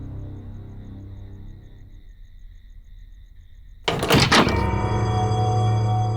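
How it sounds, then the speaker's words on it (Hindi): A door is pulled shut with a solid thud and a brief rattle after a quiet stretch, then low room noise lingers close by with no talk. "दरवाजा बंद करता हूं।"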